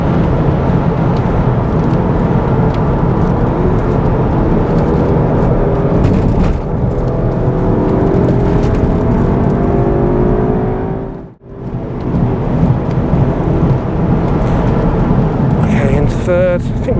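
A Cupra with a manual gearbox pulls hard on a race track, its engine note rising through the revs in a loud, continuous roar, with a brief drop around a gear change and wind and road noise throughout.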